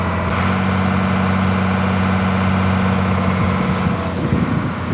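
A boat engine drones steadily on a Kerala backwater lake, a low, even hum with a strong steady pitch that holds throughout, close and loud, with a slight change in the engine's note near the end.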